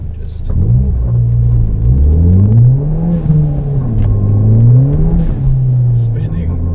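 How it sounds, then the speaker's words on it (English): A Ford Fiesta ST accelerates hard in second gear with wheelspin, its engine note surging and dipping in repeated waves, loud and close. "Second gear, I was just spinning there."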